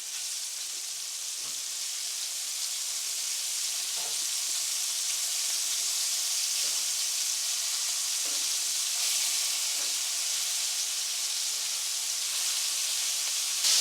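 Thin slices of food fry in a pan with a steady, loud sizzle and hiss that runs throughout, with faint scattered pops and no talking.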